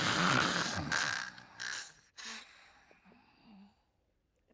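A bed character in the video game Date Everything snores, a few soft, rasping breaths that rise and fade with irregular pauses, first over a broad hiss and then more quietly alone.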